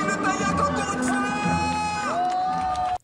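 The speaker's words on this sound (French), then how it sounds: "Les applaudissements, s'il vous plaît, public de Taillac, encore une fois." Spectators at a motorcycle club event in Taillac cheer and shout in a sustained, loud swell of crowd noise, mixed with music that cuts off abruptly at the end.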